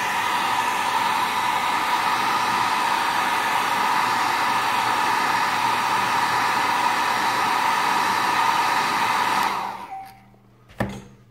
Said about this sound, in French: On va repasser un coup de sèche-cheveux.